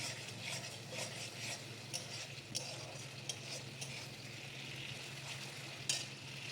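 Spices with ginger, tomato paste, cumin, chili powder and turmeric frying in a pan for a Bengali soybean and potato curry, a steady soft sizzle under repeated scraping and stirring strokes from a spoon, with no talk.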